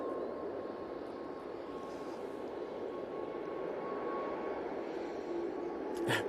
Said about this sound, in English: We do have a 321 Neo on the roll